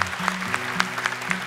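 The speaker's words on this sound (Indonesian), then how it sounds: "Tepuk tangan dong untuk Zura dan juga Mama" Studio audience applauding Zura and her mother on the Hafiz Indonesia television show; a steady, rhythmic patter of claps runs under sustained tonal music or voice.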